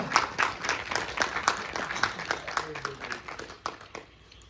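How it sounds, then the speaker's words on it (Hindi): Steady applause from a crowd, clapping continuing throughout with a few voices underneath, fading toward the end. "जोरदार तालियां।"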